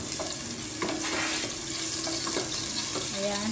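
Ginger sizzling and frying in a pan as shrimp sinigang gets started, with a steady crackle and occasional stirring clinks, close and fairly loud.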